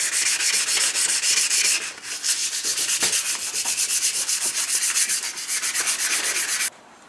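A mirror-polished, chrome-plated heat shield for a Triumph being sanded with a steady, close, abrasive rubbing hiss that runs continuously with brief dips, then stops just before the end.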